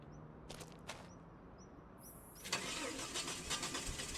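A truck engine turns over and fires up in Farming Simulator 25, a couple of short starter cranks followed by the engine catching into a steady, fairly close idle.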